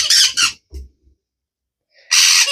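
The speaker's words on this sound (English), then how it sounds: "Those are her parrots. They're annoying, they're loud, and apparently they're very violent." Pet parrots kept in cages let out harsh, loud squawks, two close bursts at the start and another after a quiet pause, with nothing else in between.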